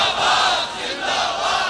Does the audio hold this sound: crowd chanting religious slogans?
yes